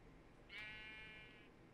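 A single sheep bleat from a Minecraft video game, a clear wavering cry of about one second, fairly faint and alone.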